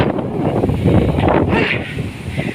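Gusty wind on a mountain farm buffets the microphone in uneven bursts, loud and close, with faint rustling underneath.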